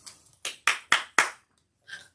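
A few people clapping along in a room at a spirited gathering, four or five sharp, near bursts of claps in quick succession followed by a short faint patter, with no talk over them.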